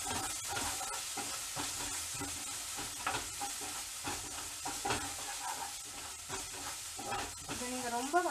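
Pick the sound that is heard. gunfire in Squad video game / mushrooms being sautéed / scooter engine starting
mushrooms being sautéed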